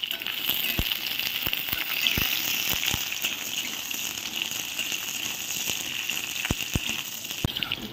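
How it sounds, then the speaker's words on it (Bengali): Pointed gourd (potol) fries in a pan for a vegetarian dish: a continuous bright hiss of oil with scattered sharp pops and crackles throughout, fairly close, with no talking. "তো সবার প্রথমে আমি পটলটা ভেজে নিচ্ছি।"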